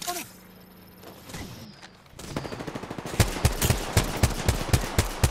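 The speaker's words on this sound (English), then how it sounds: "Who the hell is shooting me" Rapid gunfire in the Apex Legends video game, a burst of sharp repeated shots growing louder and denser in the second half, with a quieter stretch of game noise and faint voices at the start.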